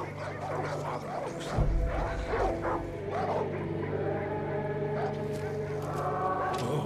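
In the video game Far Cry 5, a dog barks and whimpers in a run of yips and whines, set against steady background noise with faint voices.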